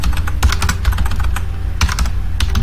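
Fast, loud typing on a computer keyboard as code is written, with rapid clustered key clicks and a few heavier keystrokes, close and continuous with no talk.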